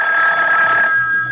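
A telephone bell rings in a radio drama, one loud sustained ring heard alone that cuts off after about a second.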